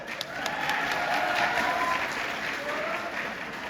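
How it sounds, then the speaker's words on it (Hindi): Steady audience clapping at a Hindi kavi sammelan poetry recital, a dense even applause that swells slightly mid-way and continues for several seconds, with faint voices mixed in. "दोनों ताली बजाओ अपने लिए।"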